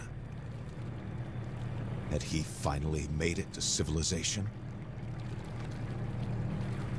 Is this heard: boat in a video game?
yes